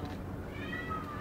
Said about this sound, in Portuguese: Vai ficar aí, miando.